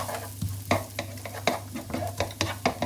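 Garlic, onions and ginger frying in a pan for a fish stir-fry, a soft continuous sizzle broken by repeated sharp clacks of a utensil stirring against the pan.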